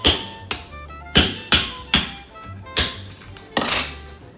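About eight sharp taps of a hammer on a block of ice, close and distinct, coming in an uneven rhythm with short pauses between blows.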